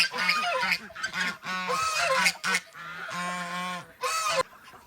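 Several ducks call loudly and close by in a rapid run of nasal, honking quacks, some overlapping, with short pauses between bursts.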